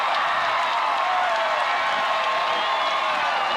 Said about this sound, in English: Now this crowd's starting to get into it